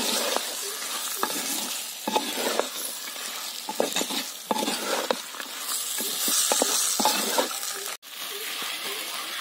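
Cauliflower florets that were fried earlier and peas are stirred together in a hot pan. They hiss and crackle steadily, with repeated scraping strokes of a spatula, and there is no talking.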